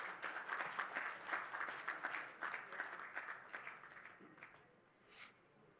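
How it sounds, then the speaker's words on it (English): Audience applause at the Inclusive Finance India Awards 2025 presentation ceremony, a steady round of clapping that fills the hall for several seconds and then thins out toward the end. "big round of applause."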